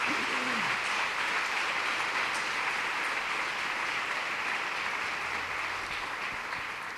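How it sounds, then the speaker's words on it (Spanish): Congregation in a church giving a round of applause, a steady, even spread of clapping from many people at moderate volume, briefly overlapped by a voice at the start. "Denle una ofrenda de palmas, hermano."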